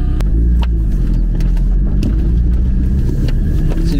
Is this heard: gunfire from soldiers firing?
no